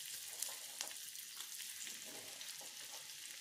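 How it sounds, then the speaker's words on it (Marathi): Onion frying in hot oil and butter on a flat tawa, a soft steady sizzle with a few faint stirring clicks. "तर आता हे गरम झालेलं, याच्यामध्ये आपण टाकणार आता कांदा।"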